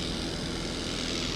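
Small propeller airplane engine droning steadily during a cruise climb at 90 knots after departing runway 31 at Saint Augustine Airport, a continuous close cabin hum with no talk.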